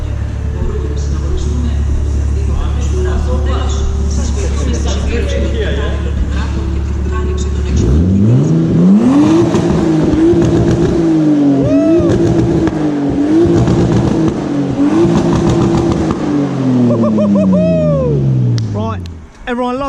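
A Nissan Skyline engine revs in repeated loud, close surges that rise and fall over a low rumble, with people talking nearby.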